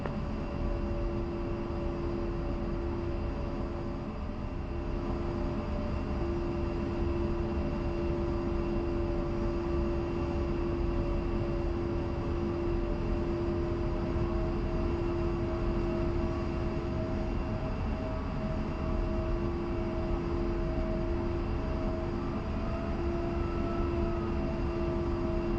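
Steady, droning jet engine of an A-10C taxiing in the DCS flight simulator, a constant loud whine with tonal hum held evenly for the whole stretch, no voices over it.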